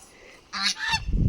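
A couple of loud, nasal honking duck calls ring out close by, followed by rough low rustling.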